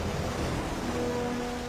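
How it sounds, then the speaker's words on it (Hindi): Ocean waves crash onto the shore during a winter storm, a dense, steady roar of surf close by with no distinct breaks, alone without any voices. "भयानक लहरें किनारे की इस नर्सरी तक आ रही हैं"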